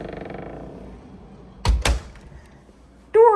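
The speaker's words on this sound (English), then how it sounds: "Close that door." A hotel room door at an inn swings shut with two heavy thuds in quick succession, fairly close and loud, followed by a brief creak or squeak.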